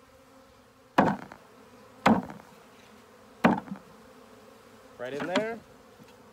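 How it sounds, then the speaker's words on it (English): Honey bees from a swarmed hive are tapped down into a box in a few sharp thumps, each followed by a brief buzzing rush and a longer buzzing burst at the end, with a short spoken remark. "I'm gonna drop these bees inside this box."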